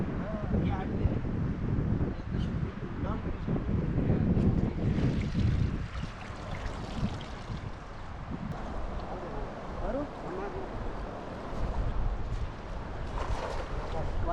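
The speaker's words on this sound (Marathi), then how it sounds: "वारा आहे रे" Wind gusting across an open beach by the sea, a steady broad roar with buffeting rumble against the microphone throughout, with surf mixed in and people talking over it.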